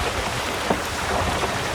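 Steady wind rushing over the microphone with water washing against the hull of a small sailing dinghy moving at a few knots, a constant broadband hiss with faint splashes and no talking.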